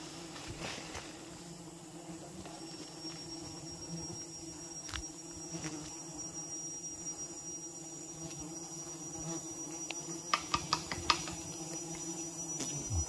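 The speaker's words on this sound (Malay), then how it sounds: "Lebah ada lebih kurang 40 lah." Bees buzzing around a large nest of about forty, a faint continuous drone with a few close passes and some brief clicks near the end, recorded outdoors in bright sunshine.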